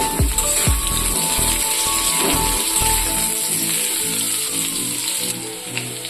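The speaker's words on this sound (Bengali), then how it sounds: "আগে থেকে কেটে রাখা আলুর টুকরো করে ভেজে নেব" Cut potato pieces frying in hot oil give a dense, steady sizzle, with a few heavier clatters of the pieces near the start.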